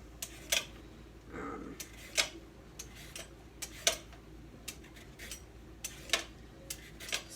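Someone peels a sweet potato by hand with a series of sharp, close scraping clicks at an irregular rhythm, roughly a dozen strokes, over a quiet kitchen background.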